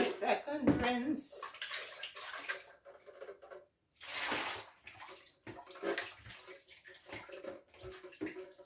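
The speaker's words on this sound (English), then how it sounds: "this is the second rinse" Dishes being rinsed in a second rinse of water in a home kitchen, with sloshing, splashing and running-water bursts that come and go, broken by brief pauses and soft background voice.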